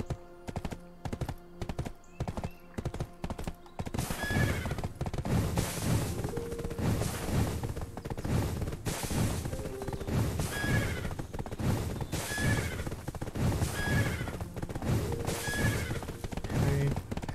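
Horses in the Black Desert Online game whinny and neigh repeatedly over steady clip-clopping hooves, with sharp distinct calls recurring against a busy, continuous ambient bed after a quieter start.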